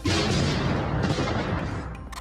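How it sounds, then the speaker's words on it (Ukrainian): Mortar fire from a mortar mounted in a garbage truck in central Donetsk: a loud, continuous rumbling barrage of booming shots with a metallic edge, dense and sustained before easing slightly at the end. "Бо це не звук вибухів, а звук пострілів, якийсь металевий, ніби з баку. Це той самий міномет у сміттєвозі."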